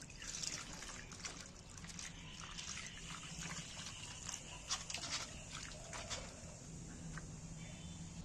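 Spice leaves being rinsed in water, with faint trickling, dripping and splashing at low volume, and some soft background noise.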